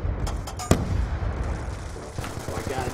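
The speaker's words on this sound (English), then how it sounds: "Nades being thrown all around this map." Gunfire and grenade blasts in a Call of Duty Black Ops 2 competitive match, a sharp shot and scattered rattling fire over a dense low rumble of explosions, with voices faintly mixed in.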